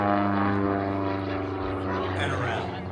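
An aerobatic airshow plane with a 160 horsepower horizontally opposed flat-4 engine drones loudly and steadily overhead at Warbirds Over Wanaka in New Zealand, its pitch shifting slightly as it passes, with a voice talking over it.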